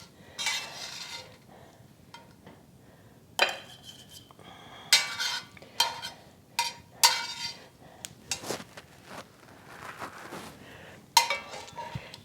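Ceramic plates and metal cutlery clink and scrape as a camp oven breakfast of eggs, bacon and biscuits is dished out at a campsite, in a series of close, irregular clatters separated by brief pauses.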